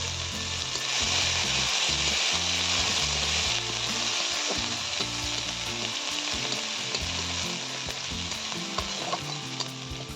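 Chopped onions frying in oil for a lote fish curry, a steady close sizzle with some stirring under background music, no talk.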